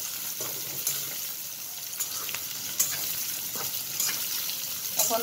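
Pointed gourd, potato and onion fry in oil with a steady bright sizzle, broken by periodic stirring scrapes and soft clanks, near and uninterrupted by voices.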